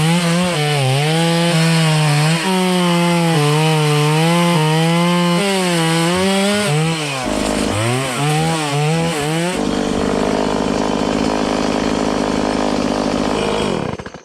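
A chainsaw revs loudly and steadily, its pitch rising and dipping as it bites into wood, then shifts to a rougher, sustained roar before cutting off.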